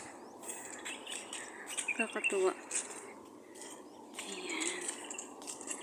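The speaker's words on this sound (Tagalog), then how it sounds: "Ayun, ang daming ibon doon." Birds chirping in a park on a foggy morning, scattered bright chirps and short trills, with a cluster in the middle, over soft ambient noise while a person speaks briefly.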